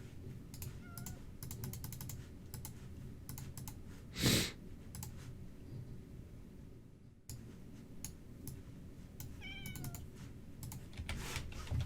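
A cat in the Minecraft video game gives a short meow, one fairly loud call standing out midway, while quick keyboard typing clicks run almost throughout.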